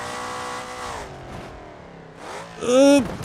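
A Ford Mustang in the BeamNG Drive driving game, its engine droning under load before it breaks, pitch falling and then swooping back up into a loud, strained rev near the end.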